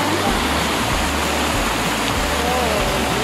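A river at Indang, Cavite rushes along with a steady, dense wash of flowing water close by, filling the whole moment without pause.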